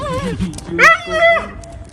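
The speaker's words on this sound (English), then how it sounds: "The husky howled with delight when she saw her owner again." A husky howls and whimpers, with rising and falling whines heard close under a voice talking throughout.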